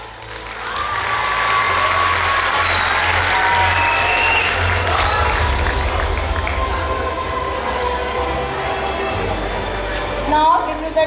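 Audience at a school annual function applauds and cheers, a broad sustained wash of clapping with shouts and whistles rising above it, easing slightly toward the end.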